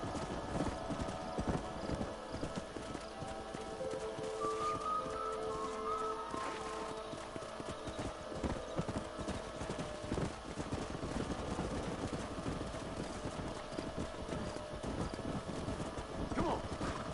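Horses trot with continuous clip-clop hooves in the Red Dead Redemption video game, and a neigh rings out midway over steady riding noise while a voice talks faintly underneath.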